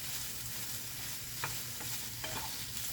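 Chicken and vegetables sizzle in olive oil in a pan, a dense, steady frying hiss with a couple of brief scraping stirs, close and loud, with no voices.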